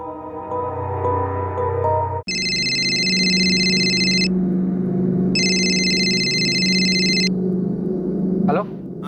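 A mobile phone rings loudly and close by in two long bursts of a bright electronic ringtone, over steady background hum after a short stretch of other sound, with a brief sweep near the end.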